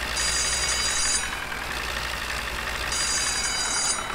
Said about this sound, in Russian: Что там звенит, звенит? А, вот она, электричка.